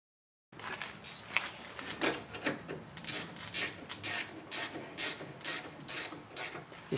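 Ratchet clicking rapidly in repeated strokes while driving rear brake caliper bolts on a 2006 Honda Ridgeline, a close, crisp rhythmic ratcheting that grows steadier toward the end.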